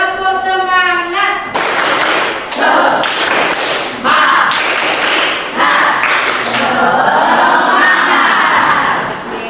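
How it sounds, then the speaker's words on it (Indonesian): Schoolchildren in a classroom perform a rhythmic spirit clapping chant led by their teacher, with loud group claps and taps in repeated patterns mixed with young voices chanting along, close and energetic throughout. "Silakan tepuk semangat."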